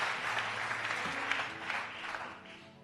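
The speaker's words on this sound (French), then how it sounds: "Tu n'as pas bien applaudi." An audience applauds with steady, dense clapping that continues throughout, fairly distant and moderate in level.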